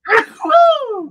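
A single sharp sneeze bursts out close by and trails off into a drawn-out voiced exhale.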